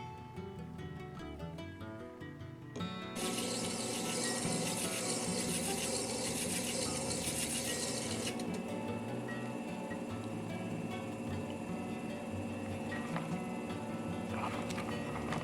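A faceting machine cuts an amethyst gemstone held in the quill, a steady whirring grind with wet, splashing water that swells louder after a few seconds and runs continuously.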